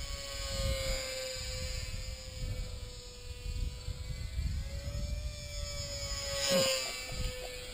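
A ParkZone Micro Corsair RC model plane flies in gusty wind, its small electric motor giving a steady thin whine that rises and falls in pitch over a rumbling wind-buffeted background, briefly louder as it passes close.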